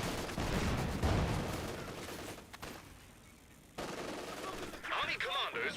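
Gunfire in a Company of Heroes 2 battle with a Panzer IV and anti-tank guns: bursts of shots and rattling fire come and go, drop away briefly midway, then return, with some talk mixed in.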